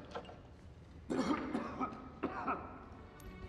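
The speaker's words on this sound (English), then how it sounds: "you hear Father Gabriel coughing at the end of the sneak peek" A man coughs hoarsely in a tense scene from The Walking Dead Season 8, in two rough bursts about a second apart over a quiet background.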